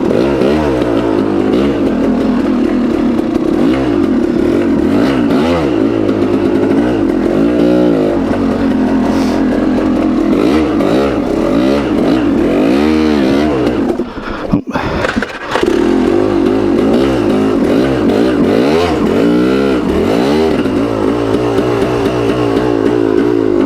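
A motorcycle rides and revs, its engine loud and close, rising and falling through repeated rev cycles, easing briefly mid-run before pulling strongly again, with no voices.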